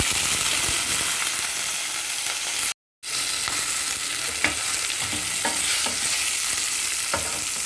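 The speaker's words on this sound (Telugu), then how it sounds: "ముందు ఒక బాండీలో నూనె పెట్టుకున్నాను సరిపడా నూనె కొంచెం వేసుకోండి కొంచెం జీలకర్ర మిరపకాయలు వేసి ఉంటుంది" Cumin and chillies frying in hot oil in a pan as the tempering for mint chutney: a steady, close sizzle with stirring scrapes, cut by one brief moment of silence.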